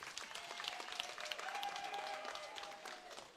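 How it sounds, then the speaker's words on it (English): An audience at a political launch event in Uganda applauds, steady crowd clapping that fills the room at moderate distance without pause. "may we give another round of applause to Dr. Tanga"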